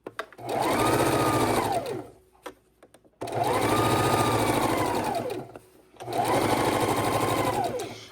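A sewing machine stitches fabric around the tight curved neck of an adult bib in three loud, sustained bursts, each revving up, holding steady and winding down, separated by short pauses.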